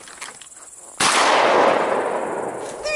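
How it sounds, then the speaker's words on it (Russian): A single loud, sharp shotgun blast from an autumn duck hunt, bursting out suddenly after a quieter stretch and trailing off in a long outdoor decay, with no talking. "Одним выстрелом две штуки"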